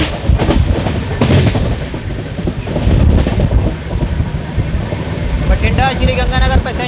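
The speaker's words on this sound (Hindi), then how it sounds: "क्रॉसिंग दिखाते हैं दोस्तों आपको बठिंडा श्री गंगानगर पैसेंजर" Bathinda–Shri Ganganagar passenger train crossing at Bulwana station, a loud rolling rumble of wheels and carriages with rhythmic clatter passing close by, while people talk over it.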